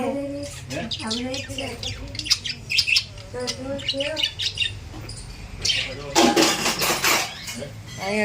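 Chickens and sparrows chirp and squawk nearby in a lively mix, with voices talking and occasional clatter.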